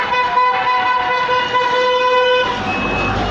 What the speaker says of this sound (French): Ah, ça klaxonne ici, hein.